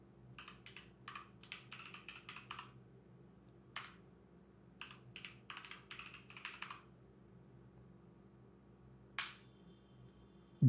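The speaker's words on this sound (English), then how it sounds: "you will be prompted to enter the new password twice" Quiet bursts of keystrokes on a computer keyboard as a new password is typed, with separate single key presses between short runs, over a faint steady hum.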